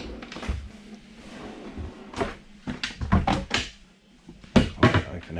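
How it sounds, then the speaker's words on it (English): Drawers and cupboards in the galley of an Allures 51.9 aluminium bluewater sailing yacht are opened and shut in quick succession, a run of close wooden knocks, slides and thuds. "Open every drawer, there's so many of them"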